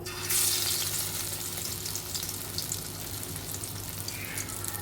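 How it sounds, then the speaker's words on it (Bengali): Round vadas of pointed gourd and chana dal frying in hot oil in a kadai give a steady, close, continuous sizzle and bubbling that runs the whole time, with no talking. "এখন আমরা তেলে ভেজে নিব আমরা কড়াইতে একটি তেল দিয়ে দিয়েছি তেলটা গরম হয়ে গিয়েছে"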